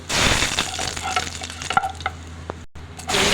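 Cumin seeds and curry leaves sizzle in hot oil, a loud crackling fry with sharp pops and spits over a constant low hiss, briefly cutting out near the end before resuming strongly.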